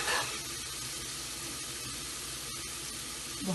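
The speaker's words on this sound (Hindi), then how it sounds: "बहुत थोड़ा सा पानी डालें" A little water added to a cooking pot of aloo gobi, giving a broad, steady hiss of water meeting hot oil and sizzling close by, with a brief clatter near the end and no talking.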